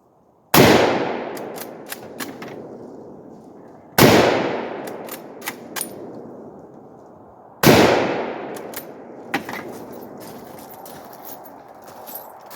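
Three loud rifle shots from a Mosin Nagant or AR-10 fired at mild steel, spaced about four seconds apart, each a sharp blast with a ringing decay followed by faint clinks and impacts.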